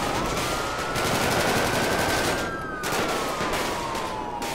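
Sustained rapid automatic gunfire in the FivePD police game rattles on loudly and almost without a break, with a brief dip near the middle and a tone sweeping beneath the shots.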